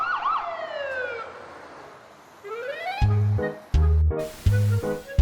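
A fire engine siren wails loudly as firefighters arrive, a rising and falling electronic siren followed by sharp repeated horn-like blasts, close and alone.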